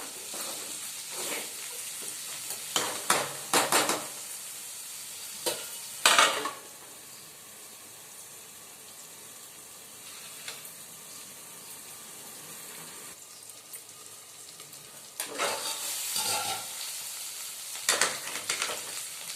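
Raw banana pieces frying in a pan are stirred in scattered bursts of scraping and clatter over a soft, steady sizzle, with quieter stretches between the stirs.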